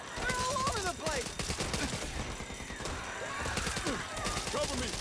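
Rapid gunfire bursts from the zombie shooter Back 4 Blood, loud and continuous throughout, layered with game creature noises and shouting voices.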